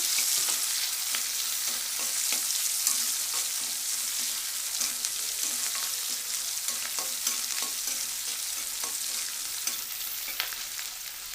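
Onion pieces fry in hot oil for a Khadi dal masala curry, a continuous close hiss and sizzle with small crackles and pops scattered throughout, steady in loudness, with no one speaking.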